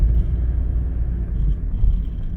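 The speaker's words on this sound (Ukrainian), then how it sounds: "Двигун чути, двигун чути навіть більше, ніж у звичайної ноти." A Nissan Note e-Power engine rumbles steadily at low pitch and stays loud and even throughout, with no voices.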